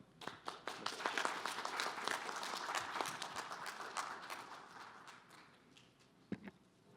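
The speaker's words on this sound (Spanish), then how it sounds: "solicitaría un fuerte aplauso para Edgar." Audience applause at a technical conference on mining operations and asset management, a burst of many hands clapping that thins out into scattered claps by the end, moderately distant.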